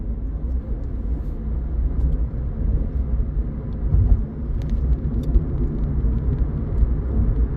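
A Scion xD economy hatchback rounding a corner, heard from inside as a continuous low engine and road rumble with steady tyre noise and small rattles.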